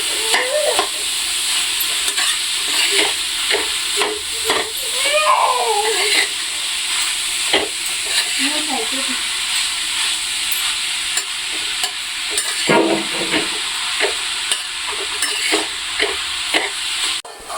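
Shiri, a wild foraged leafy vegetable, sautéed in a pan: a steady close sizzle runs throughout, broken by repeated scraping and clacking stirring strokes, with no talk.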